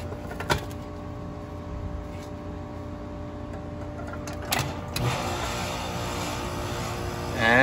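An air conditioner condenser unit starts up after a new contactor is fitted, its fan and compressor settling into a loud, steady hum with a few clicks and thumps along the way.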